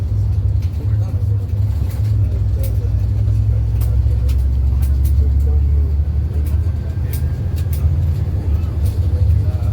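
A Metro Cebu Autobus Co bus engine rumbles steadily and loudly throughout on the road from Hagnaya, with a deep continuous drone and people talking over it.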